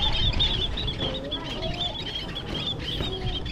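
Birds, apparently fowl, cluck and call at a Buddhist temple, with several short chirps and calls over a steady busy background; no talk.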